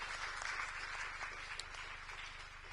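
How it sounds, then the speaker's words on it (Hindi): Audience members at a district forum on education and rice millers clap in a steady, fairly faint round of applause that stays even throughout, with a low hum underneath. "मैं चाहूंगा जोरदार तालियां पंजूलाल जी के लिए"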